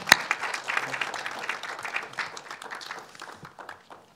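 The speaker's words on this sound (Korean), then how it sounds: "다시 한번 박수로 먼저 부탁드리겠습니다." Audience applause at a Kwanhoon press club debate forum in Korea: dense clapping from a seated crowd that bursts in sharply, then gradually thins and fades over about four seconds.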